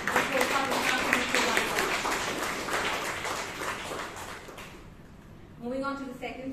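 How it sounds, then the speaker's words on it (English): An audience applauds at a Toastmasters club meeting in Bangalore, dense clapping holding steady for several seconds, fading, then a voice speaking afterward. "Let's give a huge round of applause to Vishwanath."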